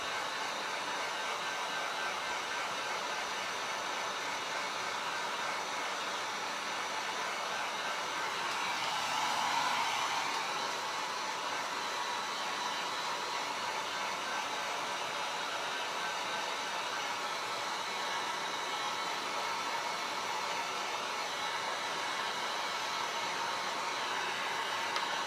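A hair dryer blows on a tin can craft, a steady, loud broadband whoosh that runs unbroken throughout, swelling slightly about midway, with no voices.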